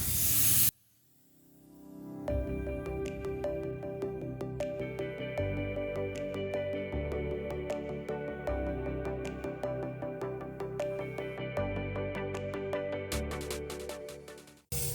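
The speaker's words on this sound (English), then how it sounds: "We've got our 2K high build primer loaded up in the gun, and we're going to put 3 coats on it." Spray gun laying down 2K high build primer on car bodywork: a near, steady hiss of atomised paint that starts after a short pause and continues evenly, broken by a few sharp clicks.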